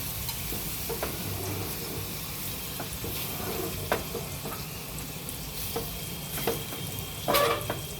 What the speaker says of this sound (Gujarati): આ દૂધ લીધું એક વાટકો ભરી, થોડું થોડું નાખવાનું, હલાવવાનું.